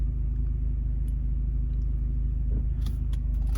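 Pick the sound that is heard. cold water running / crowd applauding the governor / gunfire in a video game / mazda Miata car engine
mazda Miata car engine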